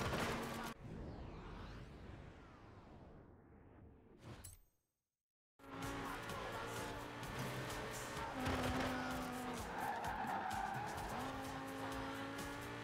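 BMW M6 Coupe sliding in a Forza Horizon 4 race, with sustained engine roar and tire squeal, a brief drop to silence, then continuous loud driving and skid noise.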